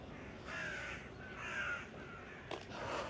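Crows caw repeatedly in a slow rhythm, harsh calls rising over a soft background hiss, moderately distant and faint.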